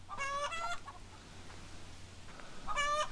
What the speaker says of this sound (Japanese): 鳥たちだ。